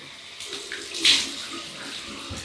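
Tap water running at a sink while alum is rinsed off a freshly shaved face, a steady close splashing flow with a brief louder gush near the middle.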